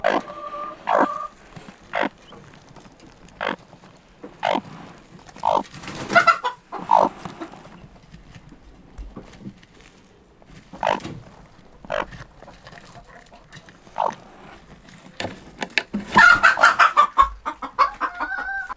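Chickens cluck and squawk intermittently at close range, with scattered calls and louder excited clucking near the end.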